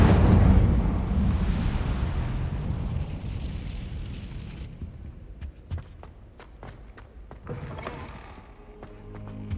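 Incendio fire spell cast in Hogwarts Legacy, a loud roaring whoosh of flame that swells at the start and fades over several seconds into scattered crackles and light footsteps.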